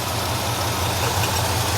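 A 1966 Cadillac Eldorado V8 idles high with the air-conditioning compressor running, a steady, even low rumble held close by without talk.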